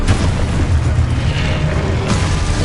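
Booming explosion spells from Hogwarts Legacy, Confringo and Exposo, go off in a steady barrage of loud, low rumbling blasts with no gaps, the dense bursts running together throughout.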